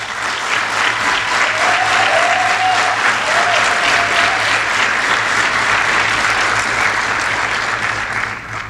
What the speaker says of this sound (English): Give a round of applause for the people who helped you through this program.